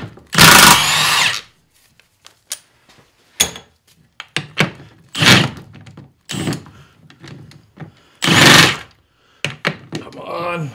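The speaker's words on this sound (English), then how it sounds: "Now we go ahead and start removing all the bolts." An impact wrench zips bolts off an NP231 transfer case in several short, loud bursts, with clunks of parts and tools between them and a person talking in the gaps.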